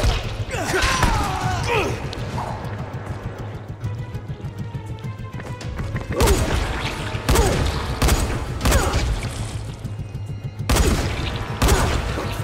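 Gunfire erupts in the zombie survival game Dying Light, with several loud sharp bursts of shots and impacts arriving in clusters over game music, and someone talking excitedly in between.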